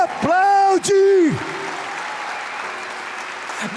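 A church congregation at a spiritual-combat service bursts into loud applause, opening with sustained shouted voices before settling into a broad, continuous wash of clapping and crowd noise.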